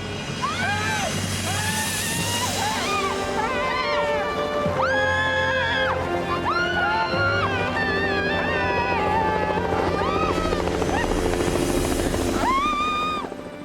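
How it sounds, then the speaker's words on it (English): A helicopter approaches from a valley floor, its steady rotor thrum sustained and loud throughout, with swelling melodic tones layered over it. "is that sound of a helicopter."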